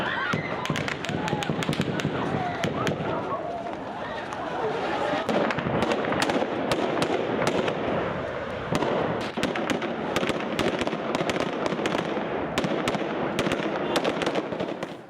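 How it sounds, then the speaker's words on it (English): Police gunfire at a violent Afghan protest, sharp cracks and pops in rapid irregular bursts across the whole stretch, heard amid loud crowd noise and shouting with voices throughout. "The police opened fire as the protest turned violent."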